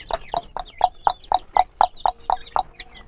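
Fancy chicken chicks in a backyard pen cluck in a steady rhythm, about ten short close calls evenly spaced, loud and clear with no talk.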